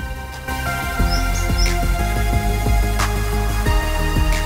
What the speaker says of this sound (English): listen, you can hear the beautiful sound of the birds